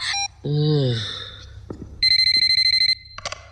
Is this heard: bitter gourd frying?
no